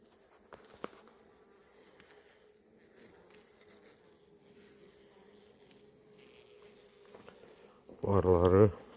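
Honeybees from a hive opened for a varroa mite test give a faint, continuous buzzing drone, with a couple of soft knocks early on and a louder, close burst of buzzing right at the end.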